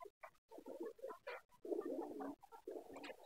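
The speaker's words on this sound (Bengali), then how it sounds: "কবুতর বাসা বাঁধে নাই, এই ফার্স্ট টাইম, এটাই প্রথম।" Pigeons coo in new nest boxes lined with mango leaves, a series of close, soft, rounded coos in short bursts separated by brief pauses.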